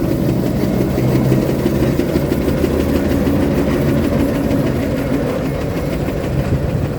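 A steam traction engine chugs and rumbles steadily at close range at the Weeting steam rally, a low, continuous mechanical throb with no talking.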